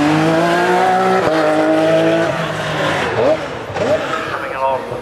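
A four-wheel-drive modified production race car accelerating up the Prescott speed hill climb, a loud close engine climbing through gears with rising pitch, then fading as it pulls away with tyre noise.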